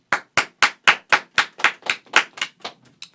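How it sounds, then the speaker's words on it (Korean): One person claps their hands about a dozen times during a Weverse Live stream. The claps are sharp, close and evenly spaced, and they weaken and slow slightly toward the end. "짝짝짝 박수치라고 박수해 빨리."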